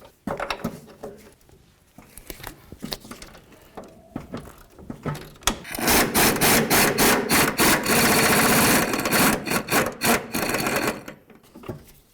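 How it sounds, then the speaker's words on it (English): Ratcheting wrench work on the 18mm upper bolts of a front shock absorber on a 1988-2002 GMC Sierra 1500, rapid metallic clicks in loud bursts after a quieter stretch of handling noise, close up with no talk. "Now it's time to remove both bolts. You can start wherever you want. I'm going to start at the top using an 18mm on one side and an 18 on the other."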